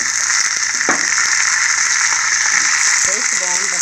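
Ridge gourd pieces frying in a pan with onions, giving a steady loud sizzle throughout, with a few brief clatters and a moment of voice-like tones near the end.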